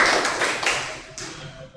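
Classroom applause, a short burst of many hands clapping close by that tapers off within about a second, with a voice heard alongside.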